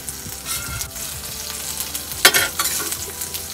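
Tomatoes fry in a hot pan as they are turned over, a steady close sizzle that flares into a brighter burst of spitting midway through, with no talk.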